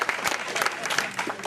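Brief applause from an audience at a club captain's show, a short burst of fairly close clapping with distinct individual claps.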